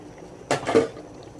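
A pressure cooker holding fish is opened in a kitchen, giving one short metallic clank and rattle in the middle of an otherwise quiet moment.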